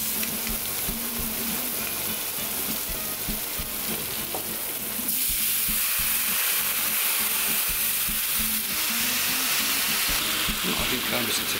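Steady, loud sizzling of onions sautéing in a hot pan, a constant crackling hiss with occasional stirring clinks.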